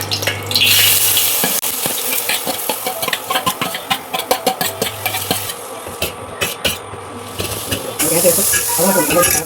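Carrots frying in melted ghee in a pan, with a steady close sizzle and hiss broken by repeated scraping, stirring knocks and clatters, and some background talk.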